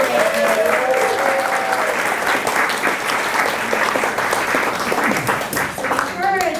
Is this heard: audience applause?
yes